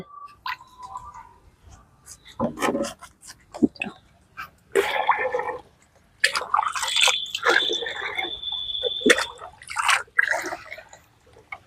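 Water splashes and trickles in bursts into a container holding oil-cake fertilizer, with short gurgling pours and dripping between pauses, close up and without voices.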